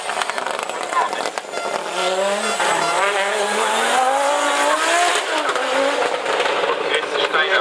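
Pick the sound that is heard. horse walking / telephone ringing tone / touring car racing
touring car racing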